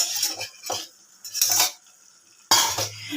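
Steamed prawns go into a cooking pan and are stirred: close bursts of a metal spoon scraping and clinking against the pan, with short quiet gaps between strokes and one sharp, louder scrape near the end.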